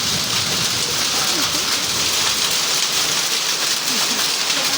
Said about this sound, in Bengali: হঠাৎ বৃষ্টি শিল করতেছে